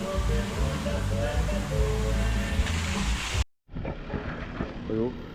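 Concrete pours from a pump hose at a job site as a second truck empties, making a loud, rushing wash of sound. It cuts out briefly partway through, then resumes.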